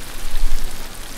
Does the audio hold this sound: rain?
yes